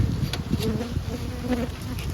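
A small swarm of honey bees hums in a steady, close drone, with a few individual bees buzzing louder as they pass near, and no voices.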